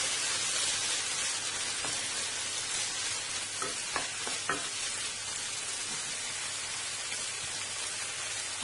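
Chopped onion sizzles steadily in a hot pan over chicken breast, with a few soft scraping stirs of a utensil partway through; continuous frying crackle, close and moderately loud, no voices.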